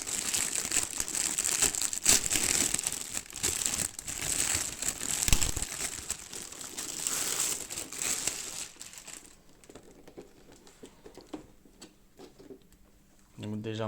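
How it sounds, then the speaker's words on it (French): Plastic packaging crinkles and crumples up close as a Star Wars Slave 1 model is unboxed, busy rustling that thins out into scattered handling noises near the end. "Donc on va le déballer."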